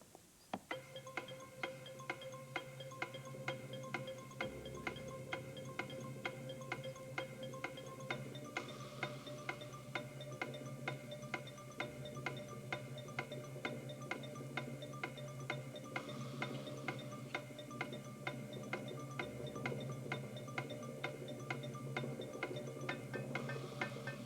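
A clock ticks at an even, regular pace over a sustained musical tone, continuing steadily for the whole stretch with no talking.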